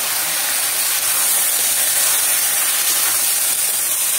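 Tomatoes fry with potatoes in hot oil, giving a steady, loud, close sizzle and hiss that holds unbroken throughout with no talking.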